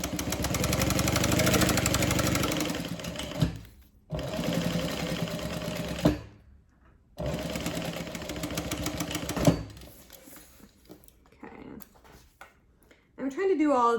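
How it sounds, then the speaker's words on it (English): A sewing machine runs steady top stitching on a Denver double zip bag at a longer stitch length, loud and close in two bursts separated by short pauses, with a voice speaking over the machine. "So I'm using a different stitch length for the top stitching."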